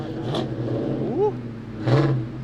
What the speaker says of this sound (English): Yeah, rev that shit, buddy